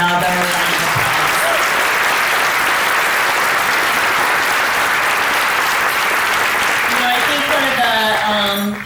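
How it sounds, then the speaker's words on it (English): An audience at a 2018 luncheon breaks into loud, sustained applause, a dense wash of clapping that holds steady for several seconds before tapering off, with a voice heard briefly at the start and end. "can we give Vaughn another round of applause"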